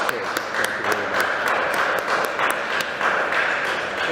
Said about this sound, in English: I think we ought to have a round of applause for you